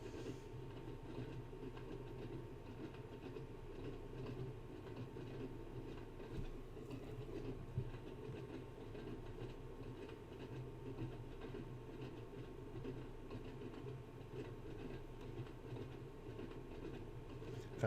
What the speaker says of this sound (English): I'm just going to cut off the power to allow the train to coast.